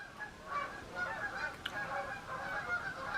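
Several geese honk repeatedly in a steady, overlapping chorus beside a frozen lake in the snow, moderately distant, with no voices over them.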